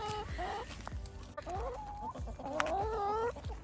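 Several backyard farm chickens in an Australian winter cluck and murmur close by, a steady overlapping stream of soft calls and rising squawks with no talking.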